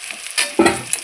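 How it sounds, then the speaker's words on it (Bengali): Fried potatoes being stirred into mutton kosa in a hot pan of oil, with a brief scrape and a burst of sizzling, all up close. "দেখুন আলুটা দিয়ে আমি একটু ভালো করে নাড়চাড় করে নিলাম।"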